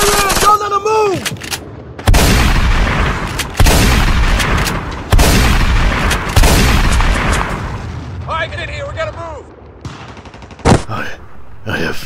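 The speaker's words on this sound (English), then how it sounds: "snipers shooting at us! Keep firing at us!" Repeated bursts of gunfire and booming blasts in a Lego animation battle, loud and close, with shouted voices over the shooting and quieter gaps between volleys.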